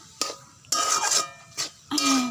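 A vegetarian dish stirred in a cooking pot gives four close bursts of scraping and clinking, with short pauses between strokes and no talking.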